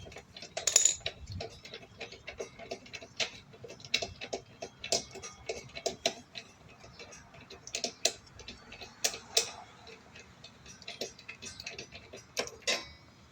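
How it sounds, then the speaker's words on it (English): A 3/8 ratchet with a 5/8 socket clicks in quick, irregular bursts of sharp ticks while loosening the spark plug on a Troy-Bilt TB110 mower with a 140cc engine, close and fairly faint. "So I'm gonna take a 5/8 socket, 3/8 ratchet. Just gonna loosen it."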